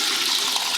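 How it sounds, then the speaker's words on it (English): Water pouring into a large pot on a stove over high heat for a pork shank farmhouse soup: a steady, loud rushing splash, continuous and close, with no voices. "immediately after, we're going to add the water into the pot"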